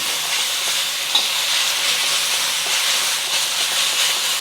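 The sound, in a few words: beef and onions frying in a pan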